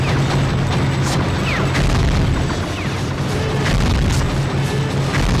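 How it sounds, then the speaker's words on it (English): Booming explosions and blasts from a PS2 shooter video game, heavy rumbling low impacts with sharp cracks layered over continuous loud in-game action. "Do you like the sound of bullets or explosions?"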